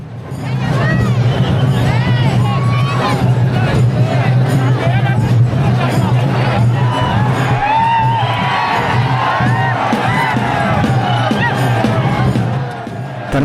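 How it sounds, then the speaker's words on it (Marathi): A dense, loud crowd packs the Pattan Kodoli yatra festival, with continuous babble, shouts and occasional whoops swelling close by throughout, and someone talking over the din. "ही पहा मित्रांनो खरी गर्दी येथे झालेली आहे"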